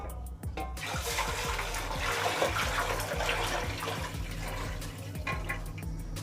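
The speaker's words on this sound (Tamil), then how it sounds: "இப்போது அரிசி வேகிறதுக்கான தண்ணியை வந்து இதுலேயே போட்டுடலாம்." Steady rushing pour of water into a cooking pot for boiling rice, continuous and fairly close, with a low background hum underneath.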